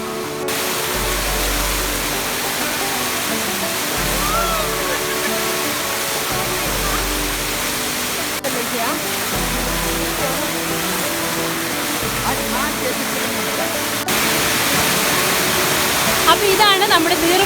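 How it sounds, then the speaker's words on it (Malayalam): The Neermudichi waterfall near Pulikkurumba in Kannur, Kerala, roars as a steady, dense wash of falling water, loud and unbroken throughout, with voices faintly present beneath the rush. "അപ്പോൾ ഇതാണ് നമ്മുടെ നീർമുടിച്ചി വെള്ളച്ചാട്ടം."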